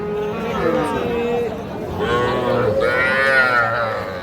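Young calves moo at a cattle market in Cumilla, with several drawn-out, fairly close bellows overlapping. People talk and bargain underneath.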